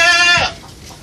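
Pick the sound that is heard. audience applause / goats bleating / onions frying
goats bleating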